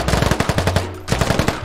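Video game gunfire in rapid automatic bursts, loud and close, with a short pause before the shooting resumes.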